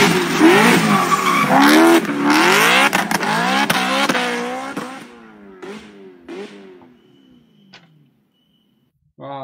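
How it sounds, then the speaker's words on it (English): BMW car drifting in the street, engine revving hard with sweeping pitch changes and tyres squealing, loud and close, then the sound fades away into quiet. "Look at another drift for this car."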